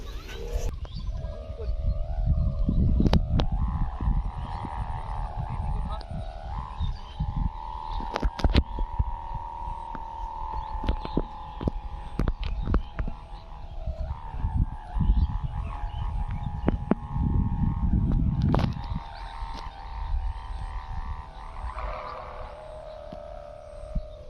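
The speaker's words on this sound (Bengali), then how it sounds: "তো বন্ধুরা দেখতে পাচ্ছেন আমাদের ঘুড়িটি কিন্তু আজকে প্রচন্ড পরিমাণে ডাকতেছে" A horned chong kite flies in the late-afternoon sky, giving off a steady, loud droning hum that throbs and wavers over gusty, rumbling wind for the whole stretch.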